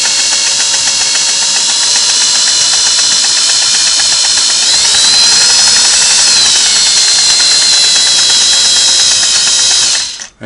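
Singer 401A sewing machine stitching a fine, tight satin stitch at moderate speed, a steady whirring, rapid mechanical chatter running continuously and close up before stopping abruptly at the end.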